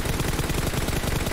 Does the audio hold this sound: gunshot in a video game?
yes